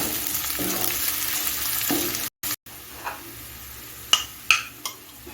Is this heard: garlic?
yes